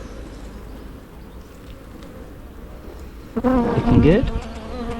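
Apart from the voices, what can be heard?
honeybees buzzing during a beehive inspection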